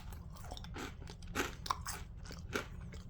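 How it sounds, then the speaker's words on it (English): Seasoned Ore-Ida Zesty Twirls french fries, slightly burnt on the ends, are bitten and chewed up close, giving a few sharp crunches over soft, steady mouth noise, with no speech. "Listen to this crunch."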